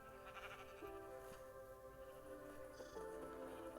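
In a survival video game, sheep bleat quietly among a flock, with short wavering cries rising over a faint, steady game background.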